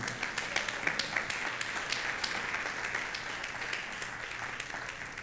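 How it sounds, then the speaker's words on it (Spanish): Church congregation applauding during a Sunday worship service, a steady wash of many hands clapping together in a hall, sustained and moderately loud throughout without speech. "¿Cuántos le dan un aplauso al Señor?"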